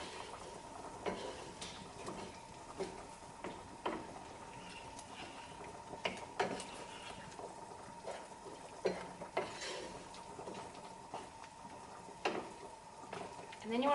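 Food being stirred in a pan while it cooks, with soft repeated scrapes and taps of the utensil over a faint steady sizzle, all fairly quiet.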